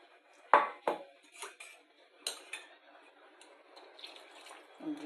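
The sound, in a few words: water poured into the cooking pan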